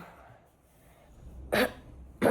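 Two sharp, loud coughs from an adult with a cold, the first around the middle and the second at the end, over a quiet indoor background with no talk.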